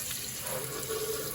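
Water sprays steadily from a Delta Classic kitchen sink sprayer on a replacement spray hose, a continuous hissing rush into the sink, close and even with no talking.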